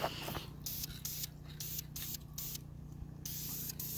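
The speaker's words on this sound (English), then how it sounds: "Shop Cat's helping us paint today" Repeated bursts of aerosol spray paint coat VQ35 engine parts in a metallic color during an Altima Coupe build, with short hissing sprays separated by brief pauses. A steady low hum runs underneath.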